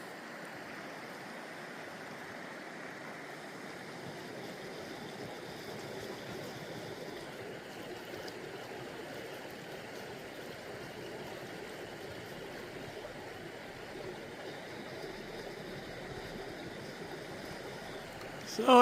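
A river flows steadily at night in Index beneath a mountain, a constant broadband rush of moving water that holds an even level throughout, with no voices over it.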